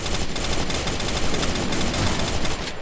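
Rapid automatic gunfire in the Free Fire mobile shooter, a dense unbroken burst of shots filling the whole moment, loud and close with no talk over it.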